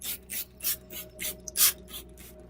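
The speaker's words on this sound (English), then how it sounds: "So just spray just plain water" Plain water is sprayed from a hand mister onto cocoa coir over seeds in a hydroponic setup, a series of about eight short hissing bursts in an uneven rhythm, close and fairly quiet.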